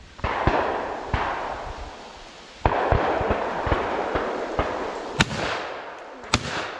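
Loud sharp shotgun blasts during a pheasant hunt in Michigan, several spaced irregularly, with booming echoes rolling outdoors between them; no talking.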